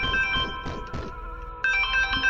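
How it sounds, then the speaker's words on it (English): A phone ringtone plays in a few bright repeating tonal bursts, with a short pause and then a louder restart, near and clear with no talking. "Of course, I get a phone call"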